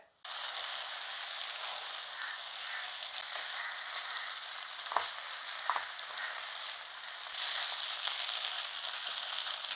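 Chicken gravy simmers and reduces in a pan, giving a steady, close sizzle that runs the whole time with a few faint clicks and a brief scrape.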